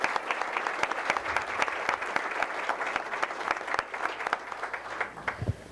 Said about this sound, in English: So please give her a round of applause as well